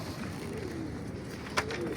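Pigeons in a loft give soft, low cooing calls over a steady background hum, with a brief sharp knock near the end.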